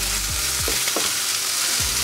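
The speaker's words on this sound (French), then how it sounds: "je rajoute le tofu que j'ai coupé en petits cubes. Je mélange bien." Small cubes of tofu and thawed vegetables fry in a pan under a loud, continuous close sizzle, with several quick utensil scrapes as the mixture is stirred.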